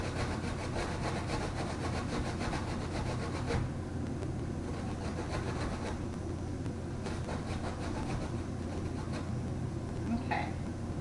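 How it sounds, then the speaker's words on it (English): Ginger root scraped against a metal box grater, a steady rasping rub that runs on continuously with a few sharper strokes, close and fairly quiet over a low background hum. "So just have my box grater here. Grate that up a little bit."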